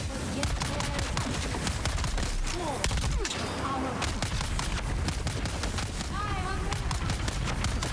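Rapid gunfire from a newly loaded gun in the sci-fi survival game Dune: Awakening, bursts of shots in dense game action with a voice talking over it.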